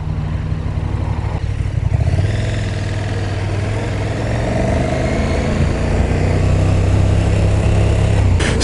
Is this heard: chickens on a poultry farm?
no